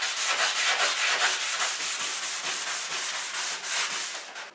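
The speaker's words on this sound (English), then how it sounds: "now I'm going to scuff it up with sandpaper so the primer sticks better" Sandpaper scuffing a kitchen countertop before priming, a rapid run of rhythmic back-and-forth rasping strokes, close and loud with no talk.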